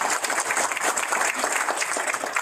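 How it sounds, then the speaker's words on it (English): An audience gives a brisk round of applause at a proclamation signing for International Housekeepers Day in Guam, dense and steady clapping throughout the short stretch. "Let's give a round of applause."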